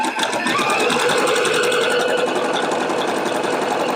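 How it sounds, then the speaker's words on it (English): Sewing machine running steadily as it stitches around an appliqué piece on a quilt block, a continuous close mechanical whir that stays even for several seconds with no talk. "you can move things out of your way as you're machine stitching"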